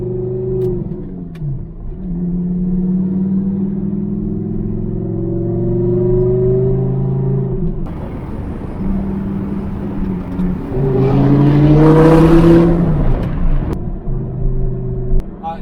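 An Audi R8 V10 engine revs and accelerates through the gears, its rising whine heard from close behind, with a surge of louder revving near the end and someone talking over it at times.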